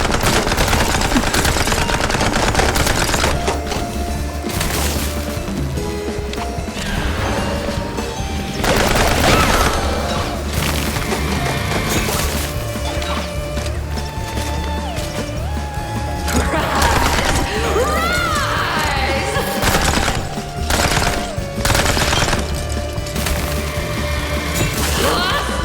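Gunfire crackles in the video game Mouse: P.I. For Hire, with repeated sharp bursts and rattling shots over layered game music and effects, loud and busy throughout with brief lulls.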